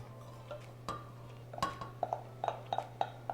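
Spoon clinks and scrapes against a pan while vegan mince substitute with garlic and onion powder is stirred, a series of short metallic taps speeding up toward the end over a low hum.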